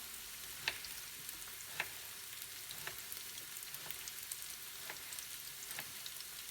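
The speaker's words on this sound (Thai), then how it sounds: "พอร้อนๆเราลงไปแล้ว ผัดฟักทอง" Young pumpkin stir-fries with garlic in a hot pan, giving a faint, steady sizzle. A soft stirring scrape returns roughly once a second, and no one speaks.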